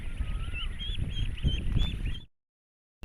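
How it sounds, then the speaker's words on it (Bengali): Pekin ducks at a duck farm give repeated nasal honking calls, fairly close and clear over a low rumbling background, before the sound cuts to silence. "ওরা আমার মতে পিকিং জাতের হাঁস"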